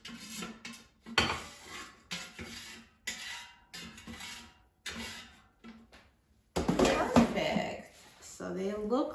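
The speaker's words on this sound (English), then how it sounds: "Let's take them out of the air fryer." Air-fried mushrooms and onions are lifted out of an air fryer basket, with scraping and clinking of utensils against the basket and dishes in a home kitchen, and a voice speaking between the clatters.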